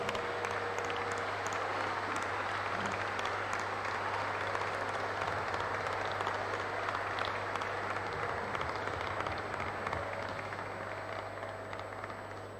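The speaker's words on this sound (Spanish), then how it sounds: "le vamos a pedir a todos los compañeros de la Corriente y del PSOL un fuerte aplauso" An audience at a political gathering in Rosario, Argentina, claps in sustained, dense applause that stays steady for several seconds and then fades slightly toward the end.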